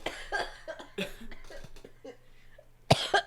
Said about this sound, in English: I am coughing right on it